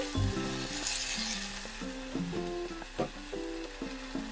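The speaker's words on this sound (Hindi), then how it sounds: "और अच्छे से भून लेंगे जब तक ये ऑयल ना छोड़ दे।" Okra masala sizzles and fries steadily in hot oil in a home kitchen, a close, continuous crackle with occasional stirring clinks and scrapes, no voices.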